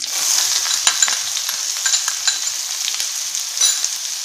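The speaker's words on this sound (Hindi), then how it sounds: "ये हमारा प्याज भून रहा है" Onions sizzle and crackle steadily in a hot pan for horse gram dal, a bright close frying hiss with small pops scattered throughout.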